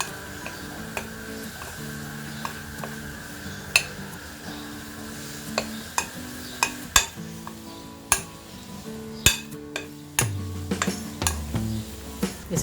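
Soya chunks are mixed with cornflour in a bowl, giving a series of light, irregular clinks and taps of a spoon against the bowl, with a steady faint hum beneath.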